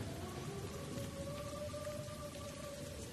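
Steady rain patters continuously on surfaces, a dense even hiss with no talking, while a faint tonal hum runs through the background.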